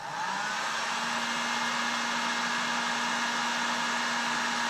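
Heat gun blowing hot air while shaping RC body clip retainers from fishing line, a steady loud whooshing hiss with a constant motor whine, unbroken throughout.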